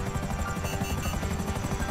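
A helicopter in the video game GTA 5, its rotor chopping in a steady rapid pulse over a droning engine, loud and continuous with no talk.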